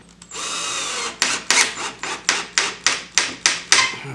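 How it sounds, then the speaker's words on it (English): Power drill driving a screw into a wooden corner of a theater flat: a brief whir, then a rapid series of about ten rhythmic pulsing bursts as the screw sinks in, close and loud. "So I'll go ahead and sink one into the corner, line it up, and hope it doesn't split."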